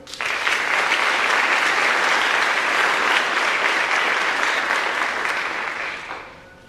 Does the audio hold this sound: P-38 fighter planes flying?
no